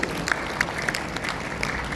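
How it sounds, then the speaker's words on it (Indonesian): Audience at a Rotary International district conference in Jogjakarta, Indonesia, applauds in a steady, moderately loud patter of clapping, heard at some distance across a large hall. "Tepuk tangan sekali lagi"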